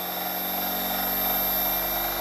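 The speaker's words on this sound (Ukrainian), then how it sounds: "Двигун зразу набирає оберти." An electric motor in a resonance experiment setup runs with a steady, loud, tonal whine and hum, holding even and swelling only slightly in loudness.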